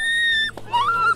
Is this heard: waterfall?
no